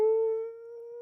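A human voice imitates a cat's deep-throated warning growl as one sustained, steady tonal moan that eases slightly softer midway, close and alone.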